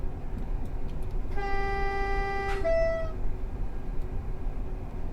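A Class 460 electric train runs on the Brighton Main Line near Wandsworth Common in Train Simulator, giving a steady rumble with a loud two-tone horn blast about two seconds long, ending in a lower falling note.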